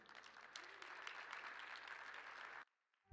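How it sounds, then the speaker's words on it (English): Audience at a Las Vegas conference presentation applauding as presenters are welcomed, steady dense clapping that stops abruptly near the end. "extra special round of applause"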